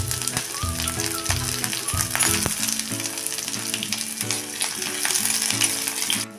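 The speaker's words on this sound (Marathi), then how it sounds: "आता पोहे करण्यासाठी कांदा, मिरची आणि कढीपत्ता" Onion, green chili and curry leaves frying in hot oil with mustard seeds and cumin for a poha tempering, crackling and sizzling loudly up close with irregular pops and the occasional scrape of stirring, alone without talk.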